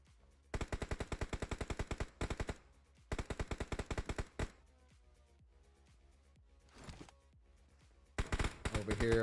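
Automatic gunfire in a battle royale game during a live quarterfinal match: two long, loud rapid bursts of machine-gun fire, a short volley, then a later burst, with faint commentary underneath at times.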